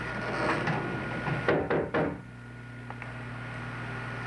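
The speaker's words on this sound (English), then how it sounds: "It's the door." Three quick raps on a wooden door sound close and sharp, then give way to a quiet, steady room hum with no talking.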